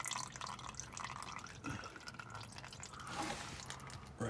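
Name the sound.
oil draining into reservoir during 2000 Ford F-150 oil change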